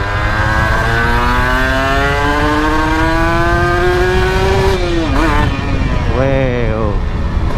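Kawasaki Ninja R 150 L two-stroke motorcycle revs hard while being ridden, its engine note climbing steadily through the gears with a shift dip, then revving up again, loud and close with wind rush underneath.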